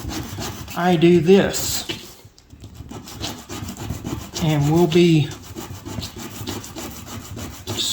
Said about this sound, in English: This is where I take a piece of good paper or sandpaper